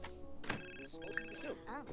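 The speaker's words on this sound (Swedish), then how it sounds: "Oj, nu ringer de." Telephone ringing in The Sims 4 life-simulation game, a repeating electronic ring tone heard amid game music and clearly audible speech from a player.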